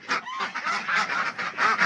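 Several ducks quack and honk continuously close by on a farm in Sungurlu, Çorum, Turkey, their calls overlapping in a noisy, busy chorus.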